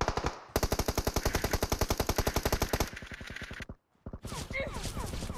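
Automatic gunfire in the mobile battle-royale game PUBG Mobile rattles in a long, rapid burst of evenly spaced shots, then a slower string, a short silence, and more shooting with background game noise.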